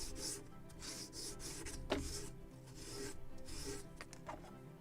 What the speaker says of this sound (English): So I'm sanding the entire plank